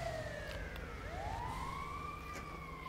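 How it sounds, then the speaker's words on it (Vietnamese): Ambulance siren in the GTA V video game, a wailing tone sweeping down and back up over a low traffic rumble, at moderate distance and fairly faint. "Có ai sắp chết hay sao mà có xe cấp cứu rồi."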